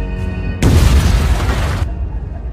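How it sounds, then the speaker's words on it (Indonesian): A bomb going off in a shopping mall in a film: a sudden loud boom after a brief quiet lead-in, followed by a sustained roaring blast that rumbles for over a second before cutting off. "salah satu bom pun meledak."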